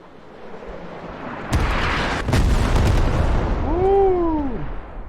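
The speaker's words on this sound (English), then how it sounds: "God, that artillery's nice." Heavy artillery fire in a war video game booms in deep, rumbling blasts, followed by a rising and falling whistle-like tone near the end, loud and sustained.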